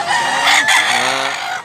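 A rooster, a gamecock raised in Mantalongon, Cebu, crows loudly and close by in one sustained, strained call filling the whole moment, with no voices over it.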